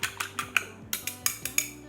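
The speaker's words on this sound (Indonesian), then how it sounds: "Nah, kalau sudah, ini dikocok." Eggs being beaten with a utensil in a bowl for a thin omelette, a quick regular series of about ten light clinking taps, close and clear, with no talking.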